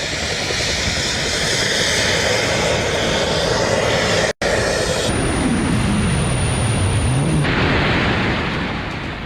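A jet suit carrying a man through the air roars loud and continuously, a broadband jet-engine blast that cuts out for an instant, then returns with a shifting whine and a sweeping pitch change.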